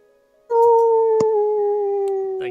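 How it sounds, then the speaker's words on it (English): A wolf howl in a fantasy tabletop roleplaying session: one long, steady, loud wailing tone that starts abruptly and holds its pitch, sliding slightly lower, with a brief sharp click partway through. "then you hear a howl."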